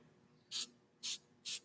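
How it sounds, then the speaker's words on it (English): Just Brake Quiet glue sprayed from an aerosol can onto the backs of disc brake pads, three short hissing bursts evenly spaced with quiet gaps between them. "we're going to use some of this Just Brake Quiet. It's kind of a glue, and we're going to spray it"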